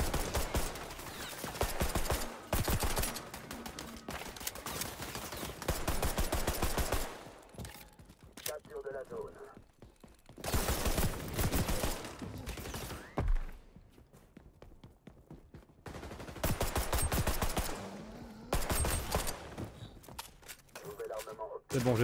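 MP5 submachine gun fire in XDefiant, coming in repeated rapid bursts separated by short lulls, heard close up along with footsteps and weapon handling.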